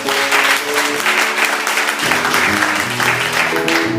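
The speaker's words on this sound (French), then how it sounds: "Tu peux acclamer le Seigneur." A church congregation at a Sunday service applauds and cheers the Lord, with steady, sustained clapping over sung or held tones from the room, continuous throughout.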